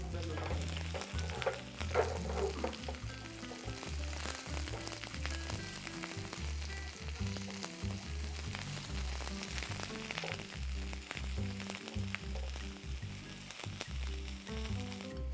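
Ingredients for a Goan chicken roast fry in a pan before fried onions go in, a continuous dense sizzle with stirring under a steady low rumble, loud and close throughout, no voices.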